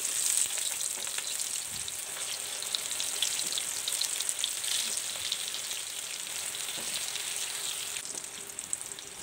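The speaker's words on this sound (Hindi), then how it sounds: "अब इनको फुल गरम ऑयल में फ्राई कर लेंगे।" Aloo samosa rolls sizzle in full-hot oil, a continuous bright crackling hiss with scattered pops, close and steady throughout, no voices.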